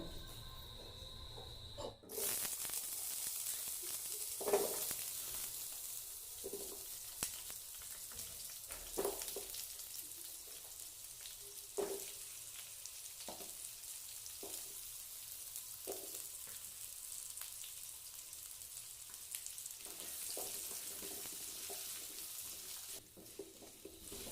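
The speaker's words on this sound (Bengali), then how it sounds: "এবার কুমড়োগুলো ভেজে নেব।" Pumpkin pieces fry in mustard oil in a wok, a steady soft sizzle heard close and alone, broken by occasional brief clatters of stirring.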